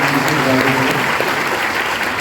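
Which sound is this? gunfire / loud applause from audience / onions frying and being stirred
loud applause from audience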